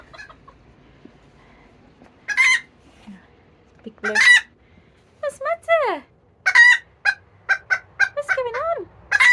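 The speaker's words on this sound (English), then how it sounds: "say hello to the chickens. They're all enjoying a bit of freedom." Chickens in a run, including one crowing rooster, cluck and crow in short repeated bursts at close range, with a person speaking briefly between the calls.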